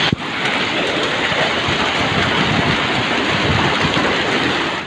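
Heavy rain mixed with hail pours down in Lahore, a steady, loud, dense roar of impacts on surfaces that holds constant throughout with no voices.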